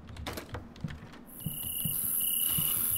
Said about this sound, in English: Alright, so we've got the noisy-ass crickets again.